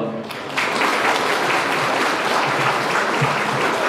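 Wedding guests in a convention wedding hall break into steady, dense applause that fills the room after a brief quieter start, with a voice faintly mixed in.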